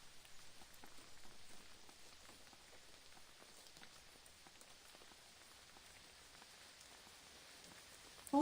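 Steady rain falls in the video game Whispers of the Luminaries, a soft, even patter of drops on surfaces that continues alone throughout at a low, constant level.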